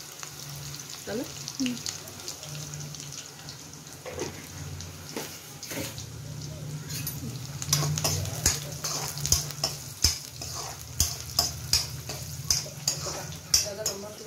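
Mustard seeds hit hot oil while matar paneer is being cooked, building from a low sizzle into dense crackling and sharp popping that grows louder toward the end, with someone speaking briefly over it.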